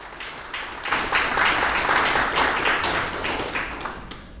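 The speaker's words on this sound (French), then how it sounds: "d'applaudir la présentation ce matin" An audience at a hospital plan presentation claps together in a steady, dense wash of applause that swells after the first second and holds strong, with no talking over it.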